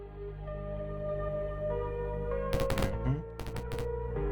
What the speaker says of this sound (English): Explosions there.